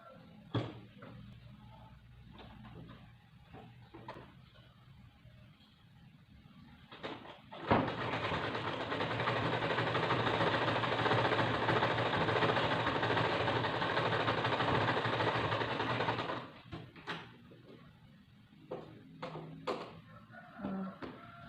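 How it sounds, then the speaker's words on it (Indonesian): A sewing machine stitches a fabric face mask, running in one steady, close whirr for about nine seconds, with quieter handling clicks and taps before and after. "ini nanti kita jahit langsung pakai mesin jahit"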